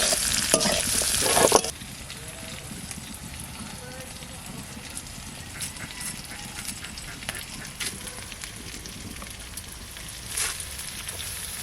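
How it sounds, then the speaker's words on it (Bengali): Chillies tossed into a pan of frying potatoes set off a loud burst of sizzling at the start, which settles into a lower, steady frying crackle with occasional stirring scrapes. "এবার লঙ্কা দিয়ে দিচ্ছি।"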